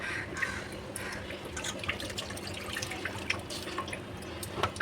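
Running water splashes and drips steadily as raw papaya is rinsed in a kitchen sink, a continuous close trickle with small irregular drips and no talking.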